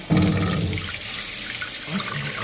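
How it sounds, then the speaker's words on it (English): Water rushes into a toilet tank through a newly replaced fill valve, a loud steady hissing flow that starts abruptly and continues alone. "All right, let's turn the water on."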